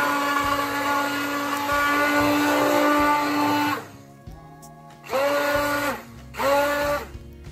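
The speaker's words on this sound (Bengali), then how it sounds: "হ্যান্ড ব্লেন্ডার দিয়ে ব্লেন্ড করছিলাম" A hand blender whirs through yogurt, water and lemon juice with a loud, high motor whine, then stops and restarts for two short bursts close by.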